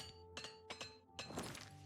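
A hammer repairs armor in the game Oblivion Remastered: three sharp metallic strikes ring out in quick succession, close and clear, each followed by a brief clanging decay.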